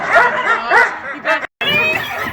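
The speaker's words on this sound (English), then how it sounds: "when the dogs want to go again, they start barking" Sled dogs on a hot summer day barking and yipping eagerly to run again, several close excited barks and whines with a brief gap, voices faintly mixed in.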